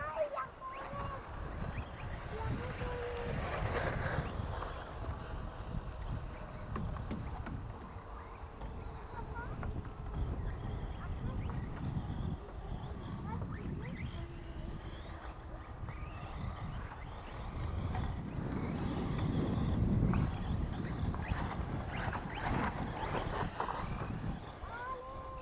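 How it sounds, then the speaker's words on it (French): Outdoor wind buffeting a microphone during a remote-control car session with a Hobbytech NXT RR 4S, a steady broad rush and rumble that swells louder around the middle and end, with faint talk and motor whine underneath. "désolé si vous entendez du vent, il y a du vent"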